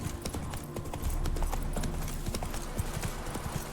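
Hoofbeats of Roach, Geralt's horse in Witcher 3: Wild Hunt, trotting in a steady, fairly close clip-clop rhythm that continues without pause over a low game ambience.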